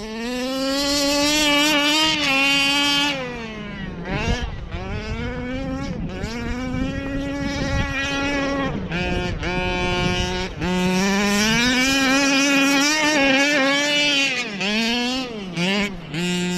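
Boat engine fitted with an RT 990 carburetor running at full throttle, a loud, close, high-pitched roar whose pitch surges and dips repeatedly as the revs rise and fall.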